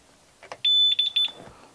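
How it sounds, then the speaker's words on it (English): A few short electronic beeps chirp close by from the oil check warning on the controls of a Mercury 200hp V6 outboard boat engine, followed by a sustained high-pitched tone with quick broken pulses. "that beep is an oil check"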